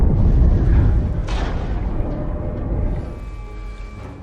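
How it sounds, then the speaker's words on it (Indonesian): A ship explosion at sea in the Arctic, heard as a heavy low rumbling boom that decays into a lingering roar, with a sharp burst of debris or spray partway through. "terjadi ledakan."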